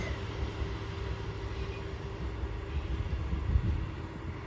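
A Class 66 diesel locomotive hauls a train through Aviemore station, giving a steady low rumble and engine drone that holds throughout and swells slightly toward the end, fairly close and with no talk.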